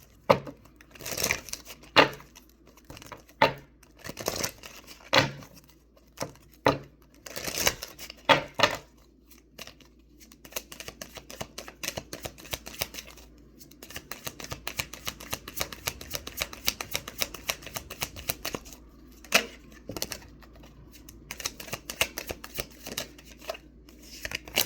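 Tarot-style manifestation cards are shuffled close up in quick papery riffles and slaps, coming in uneven bursts with short pauses and a long rapid run near the middle.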